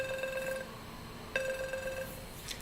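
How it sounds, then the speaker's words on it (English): A telephone rings twice, two clear electronic trills separated by a short pause, fairly faint over a steady background hiss, with no talking. "Sorry, let me pick this phone quickly."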